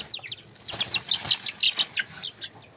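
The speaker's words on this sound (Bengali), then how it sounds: "দেখতে পাচ্ছেন এখানে একে একে নতুন মুরগির বাচ্চাগুলোকে ছেড়ে দিচ্ছি।" Young chickens are released one by one into a poultry loft, giving a quick run of high, bright peeping calls mixed with brief wing flutters, close and fairly quiet.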